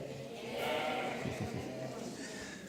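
People imitating sheep bleating, several wavering baa-like calls rising and falling at low volume within a room, with a murmur of crowd voices around them.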